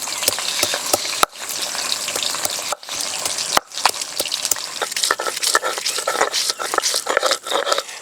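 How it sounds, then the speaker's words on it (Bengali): Spices are ground on a stone shil slab while katla fish heads fry in oil nearby, giving a steady close sizzle broken by rough, rhythmic scraping strokes with sharp clacks. "মুড়ো দুখানি ভাজা হতে হতে শিলে একটু মশলা বেটে নেব"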